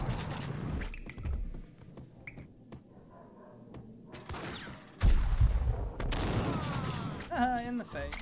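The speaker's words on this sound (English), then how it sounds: "The shotgun." Shotgun blasts in the horror video game Flesh of Fallen Angels, with a heavy booming shot near the middle, scattered thuds and rumbling, and someone talking over parts of the action.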